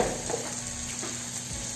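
Spice masala for a masala bhindi fries in hot oil with a steady, close sizzle and crackle, dense and continuous with no voices.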